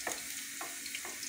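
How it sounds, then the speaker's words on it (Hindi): Soft, quiet sizzle of garlic frying in hot oil for a tempering, with a few light crackles and stirring ticks. "तड़का जो हम लोग लगाने लगे हैं।"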